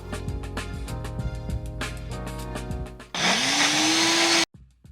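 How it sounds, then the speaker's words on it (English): A blender whirs loudly for a few seconds blending a chipotle marinade, its motor rising in pitch and then cutting off abruptly, with a faint clatter afterward. "So that's very well blended. Set your blender aside."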